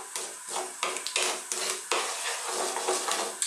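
Cumin and black mustard seeds crackle and sizzle in hot oil for a Saag Aloo potato curry, with dense continuous frying noise and several sharp pops and scrapes of a utensil against the pan, close and loud.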